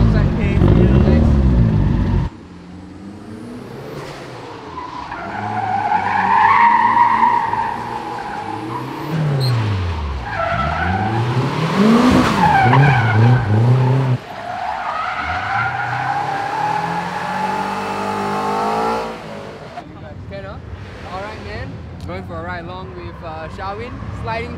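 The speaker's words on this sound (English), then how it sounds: "Charwin, sliding BRZ." A Subaru BRZ drifts at a Singapore car festival, its tyres squealing in long rising and falling screeches over engine revving, with crowd noise and voices underneath.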